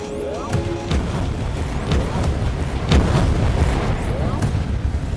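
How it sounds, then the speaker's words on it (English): A carpet bombing barrage in Helldivers 2 pounds away with a string of heavy booming explosions, repeated blasts rumbling one after another in a dense, loud bombardment. "Carpet bombing barrage is good"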